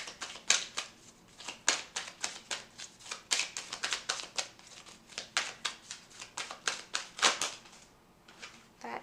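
Tarot cards being shuffled by hand, a long run of crisp riffling bursts and soft slaps in quick irregular rhythm, close and fairly quiet, with no talking.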